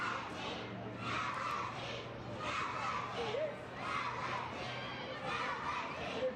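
Young children's voices chanting together in the stands at a Lexington SC soccer match, a rhythmic, distant crowd chant repeating in waves over a low background hum.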